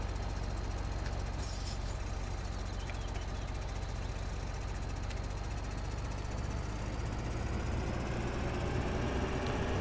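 A tractor engine in Farming Simulator 2013 on the Idaho map runs steadily at idle, a low continuous knocking rumble that stays close and even, with no talk over it.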